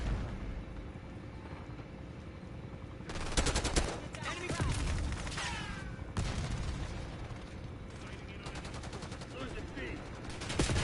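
Gunfire in the video game Call of Duty Black Ops 6, loud rapid automatic bursts in several clusters with sharp cracks over a dense game background, close and intense.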